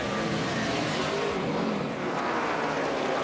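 A NASCAR race car on pit lane at Homestead's Ford 400 pulls away after a four-tire stop, a dense, loud, continuous engine roar with no break in the tone, no voices heard.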